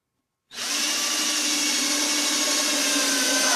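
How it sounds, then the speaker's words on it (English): A power drill runs steadily, boring a pilot hole into wood for a secure treasure box, the buzzing whine starting abruptly and holding loud and continuous, close by, with no talking. "rest of the pilot holes in. We'll put one here, one here, and one here."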